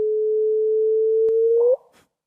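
Sonified gravitational-wave chirp from a black hole merger: a steady pure tone that holds its pitch, then sweeps sharply upward and cuts off at the end, clean and alone with a couple of faint clicks.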